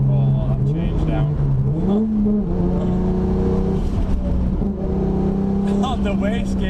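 A Nissan Skyline GTR R33 engine drones steadily from inside the car, then its pitch jumps upward as it changes down and settles into a higher hum, with voices talking over it.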